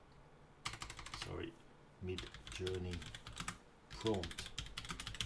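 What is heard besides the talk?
typing on a computer keyboard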